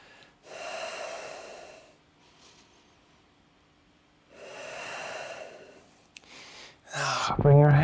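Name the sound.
deep breathing during yoga practice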